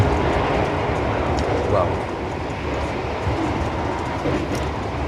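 Inside the luxury-class carriage of the Taksaka passenger train, a steady rumbling roar of travel fills the space continuously, with a person briefly exclaiming over it.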